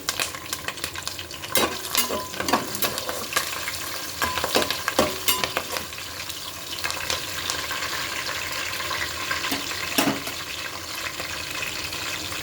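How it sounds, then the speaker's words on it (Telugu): Onions, green chilies and curry leaves fry in hot oil for chicken biryani, a loud continuous sizzle with stirring clatter and scraping in the pan, no talking. "ఉల్లిపాయ బ్రౌన్ కలర్లోకి వచ్చేసినాయండి. ఇలా వేగించుకుంటే బిర్యానీ ఫ్లేవర్ బాగుంటుంది."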